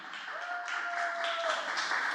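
A congregation at a church service claps for the Lord in a dense, steady round of applause, fairly loud and close, with a sustained tone running underneath through the middle.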